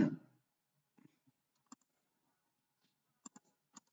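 Several short, dry mouse clicks, a couple spaced apart and then a quick pair near the end, in an otherwise quiet room after a brief soft thump at the start.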